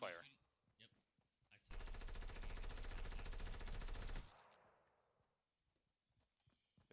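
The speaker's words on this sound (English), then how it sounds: "Ooh, I hear gunfire." A long burst of rapid automatic gunfire rattles for about two and a half seconds in a Fortnite match. A player speaks quietly before and after the shooting.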